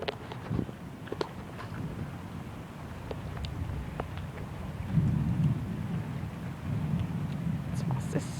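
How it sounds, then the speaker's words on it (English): Steady rain pours down outdoors, a continuous hiss with low rumbling underneath that swells slightly toward the end. "It's starting to rain again."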